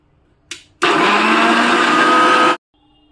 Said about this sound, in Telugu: ఇప్పుడు దీన్ని మెత్తగా బ్లెండ్ చేయాలండి బనానా బీట్రూట్ స్మూతీని అయితే చేసుకుందాం ఇప్పుడు బ్లెండ్ చేసుకోవాలి